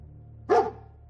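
A single short bark from Dogmeat, the dog companion in Fallout 4, loud and close over a low steady game hum.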